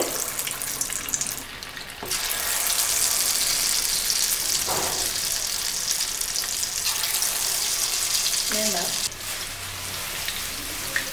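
Chicken 65 pieces deep-frying in hot oil, a loud steady hiss that swells after a couple of seconds and holds, with brief clatters and a faint voice now and then.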